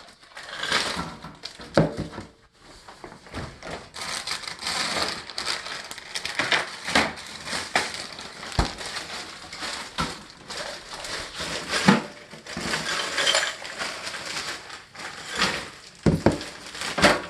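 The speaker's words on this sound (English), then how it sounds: "And now, 4 cups of ice." Ice cubes for homemade ice cream tumble into a bag in bursts of crunchy rattling and clattering, with uneven pauses between pours.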